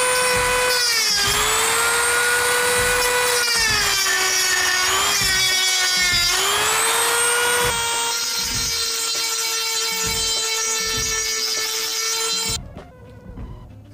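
A high-pitched power tool whines loudly and continuously as it cuts into a Mazda MX3 headlight housing during a projector retrofit, its pitch dipping and rising under load before it winds down at the end.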